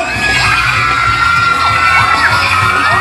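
A large crowd cheers and shouts at full volume during a shouting contest where judges measure loudness in decibels, a dense, continuous roar of high-pitched voices with whoops and yells that holds steady for about three seconds.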